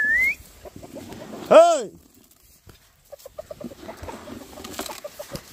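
Free-range chickens from a flock of hundreds cluck and call near the microphone, with a brief squawk and scattered soft calls, while someone shouts once.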